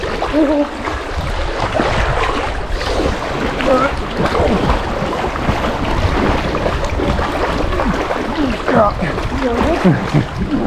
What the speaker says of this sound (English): Nice little doggy paddle we got going there